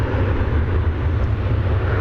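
An American Airlines 737-800 taking off from DFW Airport, bound for Puerto Vallarta, gives a steady, distant low jet roar with a broad rumble and windy hiss that holds evenly throughout.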